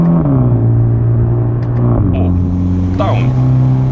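A BMW M135i engine droning steadily and loud from inside the cabin while the gearbox shifts quickly, the pitch dropping and rising around each change, with someone talking over it.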